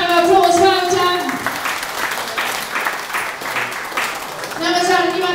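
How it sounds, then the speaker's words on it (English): An audience claps for a young girl, a dense wash of applause filling the middle stretch, with voices and a child's speech heard at the start and end. "Give her a nice round of applause for her time."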